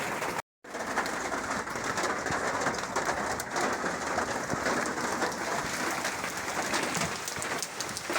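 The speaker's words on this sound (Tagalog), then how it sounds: "Buong gabi umuulan." Steady morning rain after a night of rainfall makes a dense, even hiss throughout, with pigeons cooing nearby over it.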